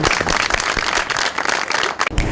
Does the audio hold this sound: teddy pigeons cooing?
no